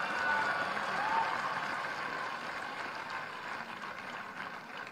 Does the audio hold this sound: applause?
yes